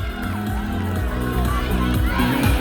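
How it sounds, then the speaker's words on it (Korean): A crowd at the Nonsan Strawberry Festival cheers and applauds the judges, a loud, dense wash of shouts and whoops, including children's voices, filling the whole stretch over a music-like background. "자 우리 세 분의 심사위원분들께도 큰 박수를 부탁드립니다"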